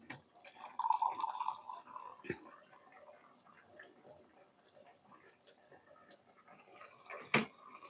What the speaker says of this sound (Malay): Kita tambah lagi sikit air.